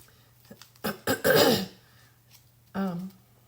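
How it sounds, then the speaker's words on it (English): A person coughs once in a few quick, harsh bursts, nearby and soft, in a quiet room with a low steady hum; a short voiced sound follows. "Excuse me while I cough"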